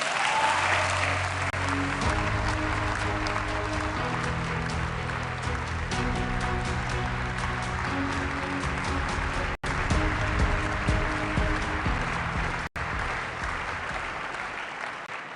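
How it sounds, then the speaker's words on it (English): Sustained, dense applause from a large audience fills the hall at a European People's Party congress in Valencia, loud and steady throughout with no speech over it. "let's welcome with a big round of applause"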